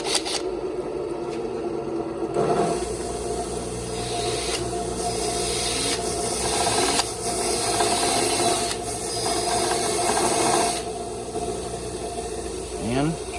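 A drill spins bolts and hardware coated in RTV silicone and Loctite to clean them, giving a steady mechanical whir with rubbing and scraping that rises and falls for several seconds, while a voice is faintly present.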